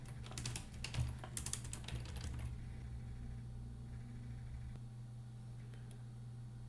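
A command typed on a computer keyboard, a quick close burst of clicky keystrokes for about two seconds over a steady low background hum, then only the hum remains.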